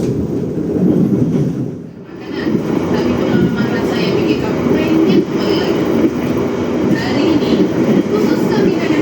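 A Kaligung passenger train runs on the rails, a loud continuous rumble with rhythmic wheel clatter heard from close by, with a brief dip partway through.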